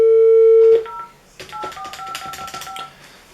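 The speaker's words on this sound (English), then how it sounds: "you've got a dial tone there to ring" A GSM mobile deskphone gives a loud, steady dial tone that cuts off after under a second, then a quick run of keypad dialing beeps and clicks follows at lower level.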